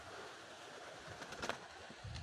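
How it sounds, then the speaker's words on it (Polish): Pigeons on a rooftop give soft, faint cooing and rustling over quiet outdoor background noise, with no talk. "Moje gołąbki już są na dachu."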